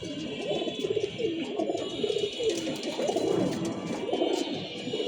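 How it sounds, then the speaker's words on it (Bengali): Pigeons in a loft coo repeatedly in soft overlapping calls, close and steady over a faint background hiss. "অল্প কিছু পরকাটা কবুতর আছে এখানে।"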